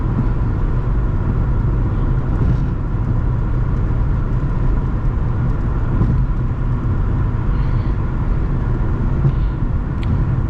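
A car cruises on a multi-lane highway at 70, giving a steady, loud rumble of engine, tires and wind noise from inside the cabin, with no talking.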